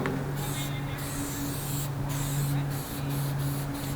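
A can of acrylic spray paint hisses steadily while fading colour on a graffiti piece, one continuous close spray with brief pauses between bursts.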